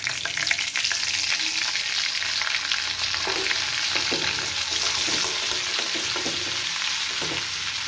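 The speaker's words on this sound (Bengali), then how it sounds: "পনির ভাজা তেলের মধ্যে আমি 1/2 টিস্পুন মতো বাটার দিয়ে দিচ্ছি" Butter melting into hot oil left from frying paneer, sizzling steadily and loudly up close with a dense crackling hiss and scattered pops, no one talking.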